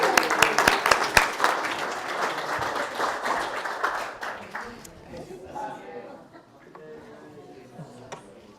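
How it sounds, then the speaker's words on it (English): A congregation at a Friday night Shabbat service applauds the confirmation class with dense, sustained clapping that fades after about five seconds into scattered claps and quiet chatter. "Let's give them a big round of applause"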